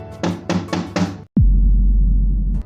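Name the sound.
knocking on a window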